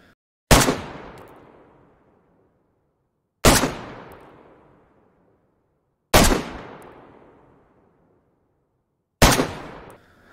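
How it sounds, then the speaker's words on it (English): Four loud, evenly spaced single AK assault rifle shots in the game DayZ, each a sharp crack with a long decaying echo, roughly three seconds apart, with no talk. "let's go straight into the shooting and see how the attachments affect this weapon"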